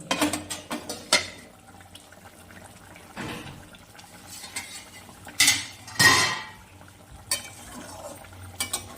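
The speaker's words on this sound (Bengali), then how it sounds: "আমি 2 মিনিট পরে ঢাকনাটাকে তুলে নিচ্ছি।" A lid is lifted off a pot of simmering hilsa fish curry with potato and eggplant. It gives a few clear metallic clinks and scrapes, loudest near the end, over a low kitchen background with no talking.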